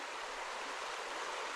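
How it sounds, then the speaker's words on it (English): A river flowing gently near a homestead cabin, a steady broadband rush of moving water that stays even throughout and is heard close with no voices. "The sound of this river is amazing."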